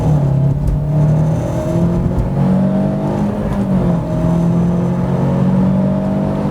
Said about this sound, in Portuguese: Primeira marcha, vamos acelerar tudo.